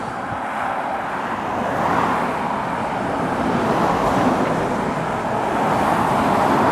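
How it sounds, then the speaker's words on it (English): MAN double-decker bus from Liverpool rumbling past at a truck stop on the A5 at Cannock, a loud broad engine and road roar that swells slightly and fades amid traffic noise. "another Sovereign Transport Services MAN from Liverpool, double decker."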